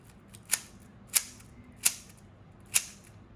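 A YJ Mini magnetic puzzle cube makes corner-cutting turns: four crisp, sharp clicks spaced roughly half a second apart, quiet and close, with nothing else heard.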